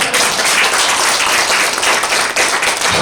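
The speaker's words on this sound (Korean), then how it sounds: "이런 때 박수를 치셔야죠." A seated audience at a women's leaders policy symposium breaks into sustained applause, dense overlapping clapping that holds loud and steady throughout without any voices on top.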